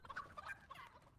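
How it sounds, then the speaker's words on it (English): Chicken in the Fortnite video game, a short, faint bout of rapid clucking and gobble-like squawks lasting about a second, with no talk over it. "Oh, a chicken."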